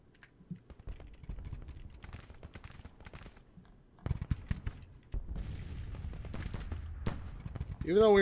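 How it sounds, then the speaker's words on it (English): Artillery battery bombarding an enemy position in the Civil War strategy game Grand Tactician: The Civil War, rendered as rapid scattered cracks and distant rumbling bursts that thicken midway, with a brief voice near the end. "Lane's battery is bombarding the Union position"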